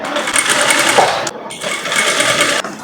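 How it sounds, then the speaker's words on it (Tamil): A sewing machine stitching around a short gown made from three meters of cloth, whirring loudly and steadily right up close, with two brief pauses between runs. "இப்போ சுற்றி தையல் போட்டுக்கலாம்."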